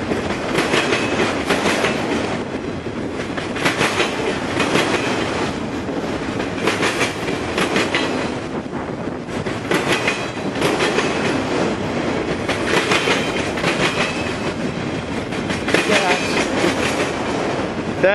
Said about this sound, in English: We'll watch this train.